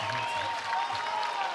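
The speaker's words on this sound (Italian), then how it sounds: "E tanti applausi dal pubblico dell'Alma Beach Studios" A short burst of audience applause at a Muay Thai event at Alma Beach Studios, dense clapping at steady loudness with a faint tone running under it.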